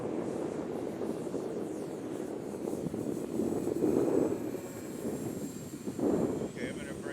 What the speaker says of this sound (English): Bill is ripping with his Twin Otter from E-flite